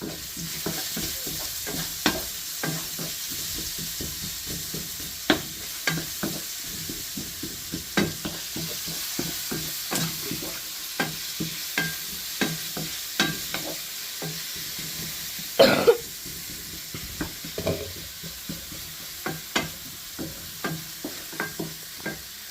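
Onions sautéing with salt in a pan give a steady, close sizzle broken by regular scraping strokes from a stirring spoon, with one louder clatter midway and no talking.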